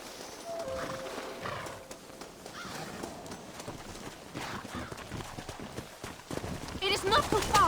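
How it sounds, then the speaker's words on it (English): Horses pulling a stagecoach in the video game Red Dead Redemption clop steadily over the ground, with a whinny and character voices talking over the hoofbeats and the wagon's rumble. "They are good horses."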